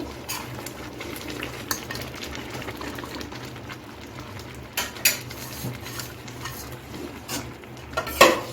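Chira khichuri, flattened rice with salt, sugar and chopped coriander, is mixed with a spoon in a pan over a low gas flame: soft steady scraping and faint sizzle, broken by several metallic clinks, the loudest near the end.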